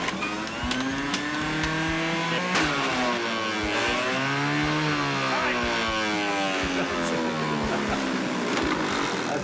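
A juicer straining as it runs up to speed with local rhubarb, a loud whining motor with sweeping, rising and falling harmonic tones that grinds steadily for several seconds, with a voice speaking over it.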